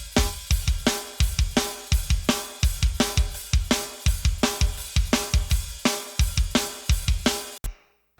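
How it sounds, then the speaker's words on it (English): A drum kit plays a steady groove with a reverb-drenched snare cracking on the backbeat over kick and cymbals, ending abruptly with a brief tail. "We have a snare verb."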